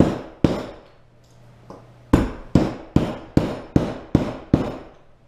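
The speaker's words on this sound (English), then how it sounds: "I put it underneath and then I smack it with a hammer" A hammer taps on the leather collar of an axe handle, a sharp knock and then a steady run of about eight evenly spaced, ringing strikes close by.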